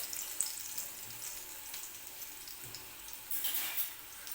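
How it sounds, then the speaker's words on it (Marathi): Crushed garlic frying in hot oil, a faint, soft hiss and crackle that holds steady and brightens near the end, with no talking. "तेल गरम झालेलं आहे, तर मी लसूण ठेचून घेतलेला आहे तो टाकून घेणार आहे सुरुवातीला"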